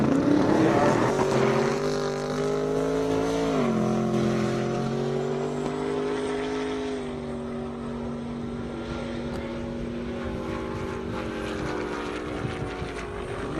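A powerful drag racing car's engine roars loudly and steadily on an airstrip, its deep harmonic drone rising in pitch as it accelerates hard down the strip, then holding a sustained high-revving howl.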